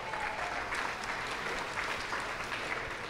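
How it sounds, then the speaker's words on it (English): A crowd at a fitness workout announcement gives Lauren a round of applause, a continuous wash of clapping that holds steady throughout without talk. "Ladies and gentlemen, give it up for Lauren."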